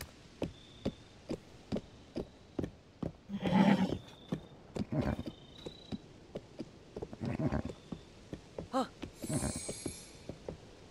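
A horse in Zelda: Tears of the Kingdom snorts and whinnies amid steady hoof clip-clops, with a louder neigh near the middle and game effects layered over it.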